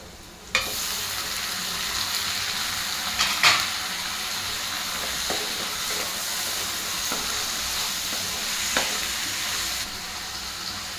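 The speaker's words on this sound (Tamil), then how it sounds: "இப்போ நம்ம தக்காளியும் சேர்த்து வணக்கிடலாங்க." Tomatoes frying in a pan over high heat, a steady loud sizzle and hiss throughout with a few scraping stirs and clatters of a utensil, no talking.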